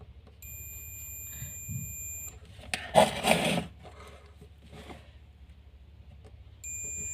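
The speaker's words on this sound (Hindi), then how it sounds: "तो गाइज यहाँ पर हमारा ये बजर की साउंड दे रहा है।" A multimeter's continuity buzzer sounds across a resistor acting as a fuse in a phone charger, a thin steady electronic tone that starts, stops and returns, with handling rustles and a brief scrape between beeps.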